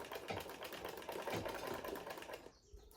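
A sewing machine stitches fabric for Yoruba iro and buba attire and runs a reverse back stitch, its dense mechanical whirr steady and close for about two and a half seconds before stopping abruptly.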